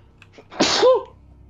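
A single sharp sneeze bursts out close by, loud and brief, with a faint voice just before it, heard during a Roblox game session of Floppy's Playtime.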